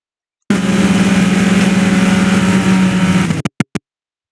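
A race car engine held at full throttle on the VIR North track makes a loud, steady droning roar for about three seconds, then cuts off abruptly, followed by two short sharp bursts.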